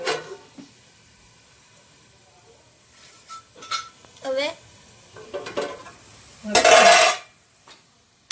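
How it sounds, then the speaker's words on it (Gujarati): Food roasting in a pan, heard as scattered scrapes and clinks of stirring with a short loud burst of sizzle, alongside quiet stretches and some vocal sounds. "પહેલાં આપણે આને શેકી નાખીશું સરખું."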